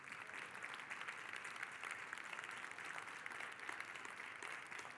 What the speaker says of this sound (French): vous avez droit à une bonne main d'applaudissements